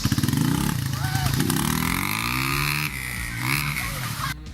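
A motorcycle engine revs under throttle, pitch sweeping up and down in repeated surges over rough idle pulses, with the exhaust note rising and falling.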